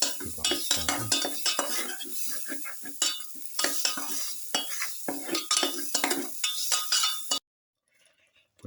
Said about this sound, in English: Keep on stirring.